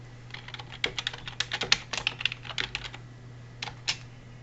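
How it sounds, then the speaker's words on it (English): Rapid, close tapping on a computer keyboard as a search is typed into Windows 10, a run of light clicks with a short pause before a few final keystrokes. "go to the search button and type for device manager"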